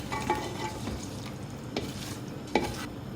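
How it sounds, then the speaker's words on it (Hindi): Chicken simmering with water in a pot is stirred, producing a few scraping strokes of a spoon against the pot over a soft background sizzle. "मिक्स कर देंगे इसको।"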